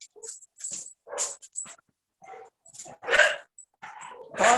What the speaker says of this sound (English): Barking. Yeah, that's what they do.